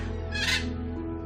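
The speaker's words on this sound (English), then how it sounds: "my blue and gold macaw gave out the macaw greeting call" A pet blue and gold macaw on a patio gives a single raucous greeting squawk, loud and close, lasting under half a second over a low steady background hum.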